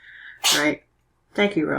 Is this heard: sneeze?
yes